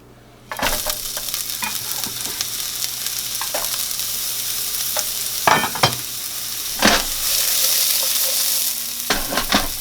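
Onions and jalapenos fry in oil in a pan for spam burritos, a loud steady sizzle with occasional sharp scraping bursts from stirring, close up and with no voices.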